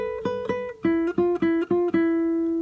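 A guitar plays a short Colombian cumbia phrase of about eight plucked notes in a bouncing rhythm, clear and close, the last note ringing out alone with no talking.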